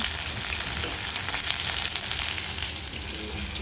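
Chopped onions fry in a wok with a loud, steady, close sizzle that does not let up, while they are stirred now and then.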